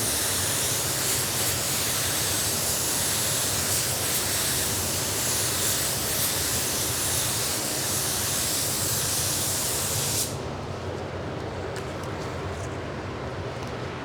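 A spray gun with a 130 tip lays a coat of Spies Hecker 5650 waterborne sealer on a black Chevy hood under repair, making a loud, continuous, close hiss for about ten seconds before cutting off to quieter room noise.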